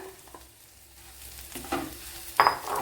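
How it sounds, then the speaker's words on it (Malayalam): Peanuts frying with flattened rice (aval) in a pan, a low steady sizzle with soft stirring scrapes that builds into a brief louder burst of sizzling near the end. "ഇതൊരു കപ്പലണ്ടി ഫ്രൈ ആയിട്ടുണ്ട് അതിലേക്ക് ഇനി ഈ അവലിനെ തട്ടിക്കൊടുക്കാം"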